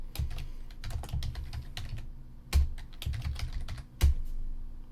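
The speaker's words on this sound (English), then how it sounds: "I don't know why I'm typing." Steady typing on a computer keyboard, a busy patter of keystrokes with a couple of heavier thumps, close by and without talk.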